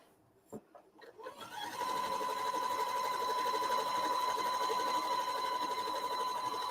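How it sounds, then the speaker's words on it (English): A sewing machine stitching straight seams on quilt pieces, starting with a few hesitant bursts before settling into a steady, close, continuous whirring hum. "Today is a lot of sewing straight."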